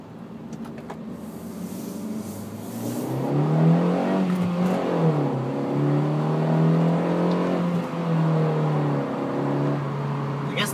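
A manual-transmission car accelerating hard, engine climbing in pitch through the gears with shifts around 5,000 RPM, heard from inside the car on a cold road; the engine drone rises and falls with each shift, loud and continuous, without talk.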